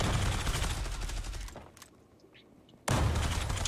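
Shotgun fire in the online shooter Zula: a dense, loud burst of blasts, a brief quieter lull with faint sounds, then another sudden heavy burst.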